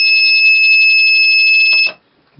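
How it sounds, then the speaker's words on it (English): A piezo buzzer on a six-digit countdown clock kit sounds a loud, steady electronic beep tone for nearly two seconds, then cuts off abruptly, followed by a couple of faint clicks. "The piezo buzzer basically just, it's supposed to be an alarm to indicate."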